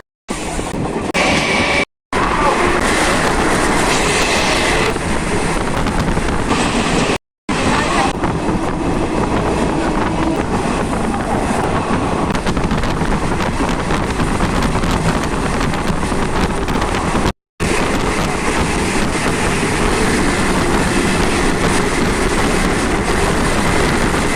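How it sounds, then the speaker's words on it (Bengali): Teesta Torsa Express pulls out of Sealdah toward Bidhannagar, heard from on board as a continuous loud rumble of rolling coaches mixed with wind roar, broken by a few short gaps. "এখন ট্রেনটি শিয়ালদা থেকে বেরিয়ে বিধাননগরের দিকে যাচ্ছে।"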